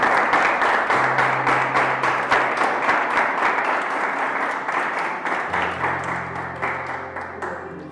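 A church congregation applauds loudly and steadily, dense clapping sustained throughout with a faint sustained tone beneath.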